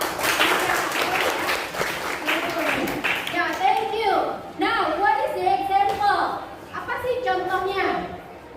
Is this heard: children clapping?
yes